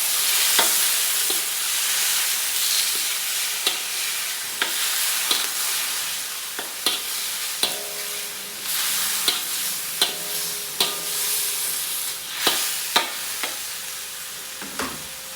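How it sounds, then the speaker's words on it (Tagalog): Chicken adobo with soy sauce being stirred in a pan, a continuous strong sizzle broken by repeated sharp clacks and scrapes of the spoon against the pan at an irregular pace. "Ilagyan na natin itong toyo. Haluin."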